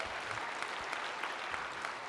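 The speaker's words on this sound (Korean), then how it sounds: "유튜브로 함께한 분들을 우리 향하여 박수 한번 해주시기 바랍니다" A church congregation applauds during a Christmas sermon, a soft, even wash of many hands clapping heard from a distance, steady and unbroken.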